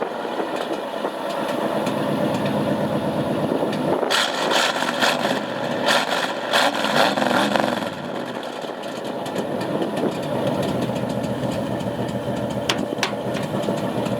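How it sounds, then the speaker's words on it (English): An old truck's rebuilt 350 small-block V8 with a small cam idles with a lopey, choppy rumble, then revs up briefly in a few quick blips before settling back to a steady idle, fairly close and with no talk. "So I have a rebuilt 350 small block in there, and I have a small little cam in there that give it a little chop when you crank it up."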